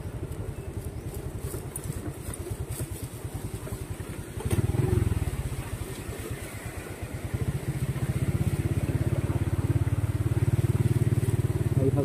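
Motorcycle engine rumbling steadily while riding a rural road between Sibulan and Bais City, a close, continuous low drone that swells briefly then settles into a fuller, louder note, with no talk.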